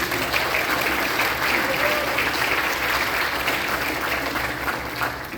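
Steady audience applause fills a middle school recognition concert for seventh and eighth graders, dense and continuous at a loud level for the whole stretch before easing slightly at the end.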